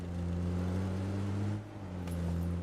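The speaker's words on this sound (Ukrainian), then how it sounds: "Е, машину. Чую." Car engine heard in a video game, a steady low droning hum holding level, easing slightly partway through before continuing, close and fairly loud.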